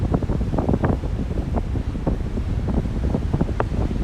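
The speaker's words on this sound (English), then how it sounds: "at our Atlantic Ocean beach." Strong wind buffets the microphone at Smith Point Park's Atlantic Ocean beach on Long Island on a December morning, with surf rumbling beneath in a loud, steady roar.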